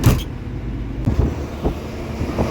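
Steady engine and road rumble carries through the cabin of a KSRTC Rajahamsa night bus slowed in heavy traffic between Bengaluru and Trichy. Occasional low thumps and bumps sound close by.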